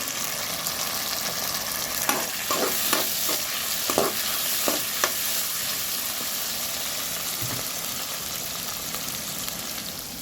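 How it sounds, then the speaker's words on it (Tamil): Onions and tomatoes fry in a pan with a steady, close sizzle, while a series of sharp stirring clinks and scrapes sounds between about two and five seconds, and no one speaks. "வெங்காயம் வதங்கட்டும்."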